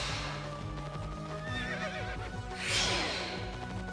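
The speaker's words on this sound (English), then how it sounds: "Where is my horse?" A horse whinnies loudly in the Samurai Warriors video game, with clip-clopping hooves and game music and effects running continuously underneath, the neigh swelling near the end.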